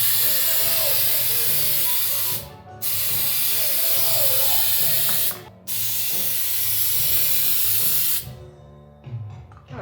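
A spray gun lays another coat of paint on a Nissan 240SX body panel, its loud steady hiss running in long bursts that stop briefly twice and then end.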